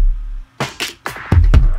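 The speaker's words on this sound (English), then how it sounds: "a drum kit and a bass patch sound," Drum kit hits and a bass patch from a software instrument, playing a short pattern of punchy, loud percussive strikes with low bass underneath, alone without talk.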